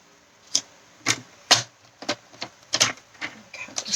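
A trimmer slices through paper or painter's tape in a series of crisp, sharp cutting strokes, about ten in quick irregular succession, close and fairly loud.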